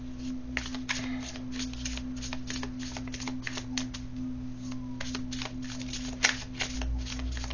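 A deck of playing cards being shuffled close up, a quick run of crisp riffling flutters and taps repeating over several seconds, fairly quiet with no speech.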